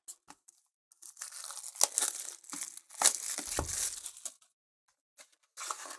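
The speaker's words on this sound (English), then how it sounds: "today I'm going to be opening some March of the Machine collector boosters" Magic: The Gathering March of the Machine collector booster packs being torn open, with crinkling foil wrappers, tearing and crumpling in irregular bursts separated by short silences, close and fairly quiet.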